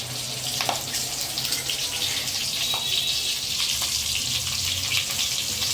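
Stuffed green chilies fry in oil over a low flame, giving a steady, soft hiss and gentle sizzle that runs evenly throughout, with a faint low hum beneath and no speech.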